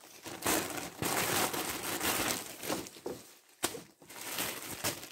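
Cellophane wrapping crinkles and crackles during an unboxing, a loud, close, continuous rustle with brief pauses and sharp crackling bursts, heard alone without talk.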